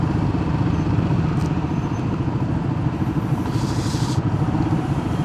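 A motorcycle engine drones steadily with a low, pulsing rumble, loud and close, running without pause throughout in Divisoria, Manila traffic.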